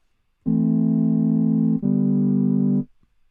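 Single-voice unison patch on the Vital wavetable synth, two sustained notes back to back, steady, loud and clean with no voices, ending in near silence.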